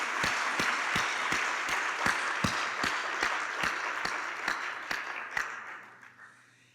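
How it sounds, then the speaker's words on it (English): Applause for board members at a university award ceremony: steady, evenly spaced claps ring out in a hall, about three per second, then taper off and fade at the end. "Please, a round of applause to our board members who are here with us."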